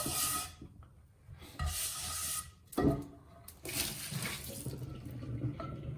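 A cast iron pan is scrubbed under running water at a sink, with bursts of brushing and rubbing between quieter gaps and a short knock partway through, close and fairly soft.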